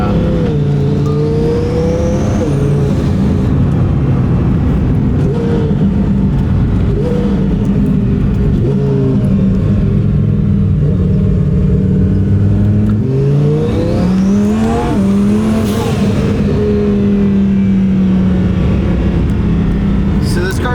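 A roughly 1,500 whp rear-wheel-drive twin-turbo car with bigger turbos drones loudly and close, its engine pitch rising and falling through two strong revving sweeps amid a heavy, constant rumble.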